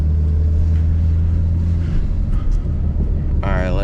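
A BMW M3 with a manual gearbox drifts in second gear, its engine a loud, close, steady low roar that shifts slightly in pitch, with tire and wind noise mixed in.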